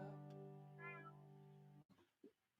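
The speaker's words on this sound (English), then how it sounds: "is meowing and making all kinds of crazy cat noises" A kitten meows loudly and continuously in a long, tonal, wavering call lasting nearly two seconds, then breaks off into a few shorter, softer cat noises close by.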